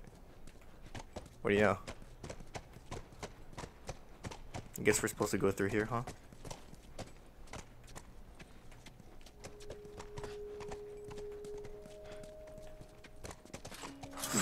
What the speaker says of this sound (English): Oh, God, the horse is inside the building.